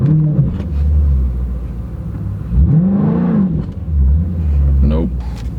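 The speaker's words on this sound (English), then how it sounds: "activate launch control, put the car in drive, and I just want it to hold the RPMs for me" A Dodge Challenger's engine rumbles at idle, then revs up and falls back during a launch-control attempt, a low burbling rise and drop heard close, with a person talking over it.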